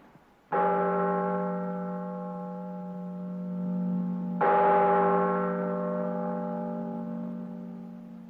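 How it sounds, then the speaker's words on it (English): Church bell of St. Stephan striking twice, two loud resonant tolls with long ringing decay, the second starting about four seconds after the first, heard alone in a quiet space. "that must be the bell of the church of St. Stephan"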